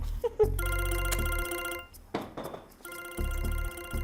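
A telephone rings in a Hindi comedy series, electronic trilling bursts repeating in a steady pattern with short gaps between them, clear and close with no voices.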